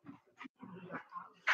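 A beagle whimpers and yips in short bursts indoors, a few brief whines spaced across the moment with a sharper high cry at the end, fairly close.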